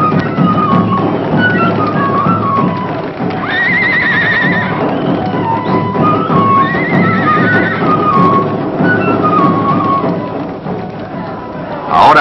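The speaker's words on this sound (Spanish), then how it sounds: "Estos caballos andinos, menudos y fuertes, ya no tienen la arrogancia de los caballos conquistadores." Small, strong Andean horses in the Peruvian highlands near Cusco whinny loudly and repeatedly over a steady rumble of hooves and a crowd, filling the scene up close.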